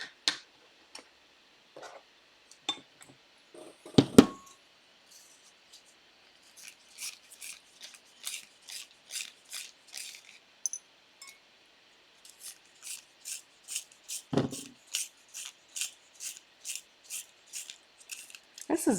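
A vibrant pink colored pencil being sharpened, giving a run of quick, rhythmic scraping strokes close up, with a few scattered clicks and handling noises beforehand.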